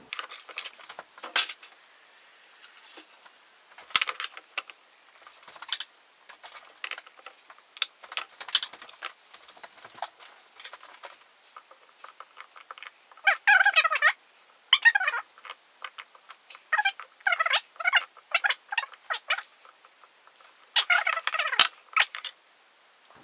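Four small apples being washed, peeled and cut into small pieces in a home kitchen, heard as scattered clicks, scrapes and knife taps in irregular bursts, close and fairly quiet with no talking.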